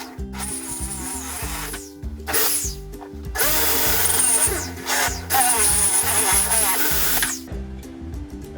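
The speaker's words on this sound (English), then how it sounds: "Next, we're going to use the drill saw." A drill saw cuts slowly through an aluminum boat livewell lid, a loud whining buzz in several long bursts with short pauses and pitch shifts as the blade bites.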